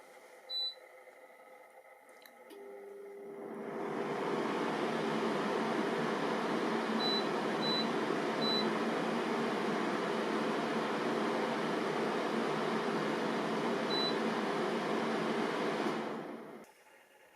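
An Inventor portable air conditioner switches on and runs with a steady, even whoosh of fan and airflow that holds for about fourteen seconds before shutting off, with a few faint beeps from its panel at the start and during operation.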